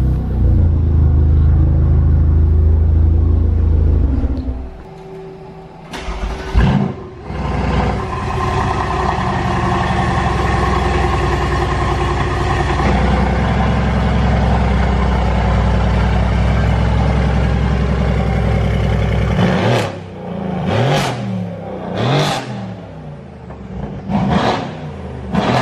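A VW Golf R with an APR tune rumbles at idle, then revs hard with loud crackling exhaust pops and bangs, several sharp bursts coming in quick succession near the end, close and loud.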